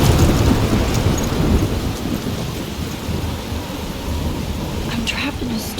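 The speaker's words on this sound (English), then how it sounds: "I'm trapped in a storm?" Thunderstorm in the video game Life is Strange: heavy rain hisses steadily under a loud rolling rumble of thunder that fades over several seconds, with a few faint high chimes near the end.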